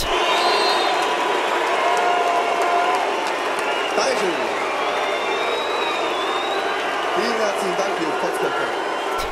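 Cheering and applause from a TV studio audience fill the space as a continuous, dense crowd roar with whoops and clapping, steady and loud throughout.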